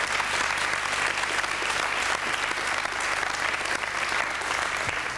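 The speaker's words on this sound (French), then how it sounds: "Vous pouvez l'applaudir" Sustained audience applause at a French event: a thick, even roar of many people clapping, holding steady at full strength from start to finish, with no talking over it.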